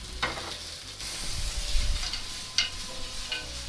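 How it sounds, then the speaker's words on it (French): Foie gras sears in a hot pan, a soft sizzle with a few scraping stirs and spatula clacks as the piece is turned and the heat is lowered, heard close up without talking. "je baisse le feu et je retourne le foie gras et on laisse finir de cuire"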